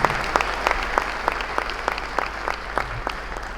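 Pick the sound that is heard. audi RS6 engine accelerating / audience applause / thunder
audience applause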